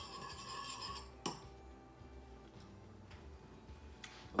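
A spoon stirs a lime-squeezed, salted aguachile base in a bowl, giving a few faint, sparse clinks and scrapes against a quiet kitchen background.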